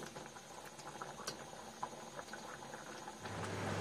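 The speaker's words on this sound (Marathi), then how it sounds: "आता या आमटीची उकळी आलेली आहे" A pot of black bean amti curry boils softly, its faint bubbling and popping building to a steadier simmer near the end.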